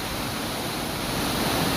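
Rain-swollen water gushing over the overflow channel of a village pond makes a constant, heavy rushing roar, close and unbroken, with no voices.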